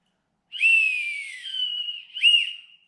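A whistle blown twice: a long shrill blast that wavers and fades, then a shorter sharp toot, clear and close.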